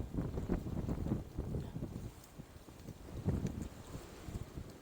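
Strong wind gusts through a rose garden, a broad rushing roar with rustling bursts that swell and fade, close to the microphone and buffeting it, with no voices.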